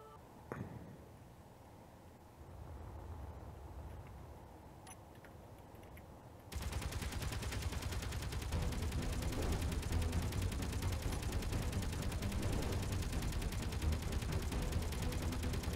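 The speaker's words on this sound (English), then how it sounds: "What is shooting at me?" Rapid automatic gunfire from a turret shooting at the player on a big red ship in Space Engineers survival, starting faintly and then jumping to a loud, dense, continuous barrage that runs to the end.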